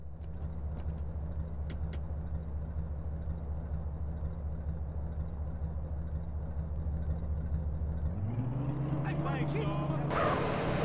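A car driven in the game GTA San Andreas gives a steady, loud engine drone throughout, its pitch climbing sharply near the end as it speeds up.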